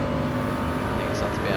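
Gr3 Toyota Supra race car in Gran Turismo 7 at Road Atlanta, a loud, steady engine drone held at high revs with a faint whine on top, continuous through the short stretch.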